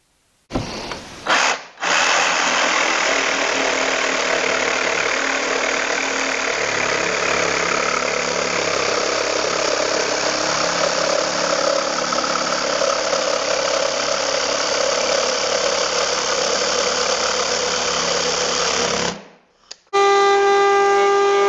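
Pocket holes being drilled into cedar boards for a blanket chest, a loud, steady power-tool whine that holds for about seventeen seconds after a brief start, then cuts off near the end.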